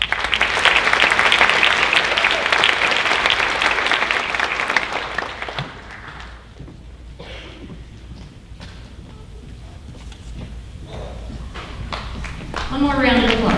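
Loud clapping from an audience at a high school honors night, strong at first, then fading after about five seconds into quieter scattered claps and room noise before a voice returns at the end.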